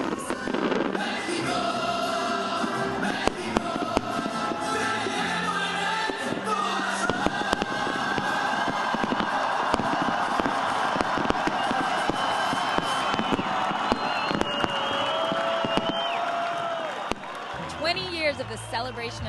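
Fireworks burst over Vancouver's Celebration of Light, with crackles and pops scattered across a long stretch, set to music and crowd noise, with a voice talking over the show.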